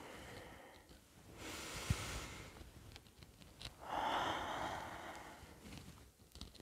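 Slow, deep breathing nearby: a long audible inhale followed by a longer, heavier exhale, soft and unhurried, with no talking.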